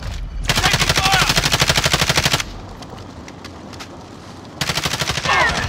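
Rapid automatic gunfire in the video game Call of Duty Warzone, two long loud bursts of fast regular shots separated by a quieter stretch of scattered distant fire.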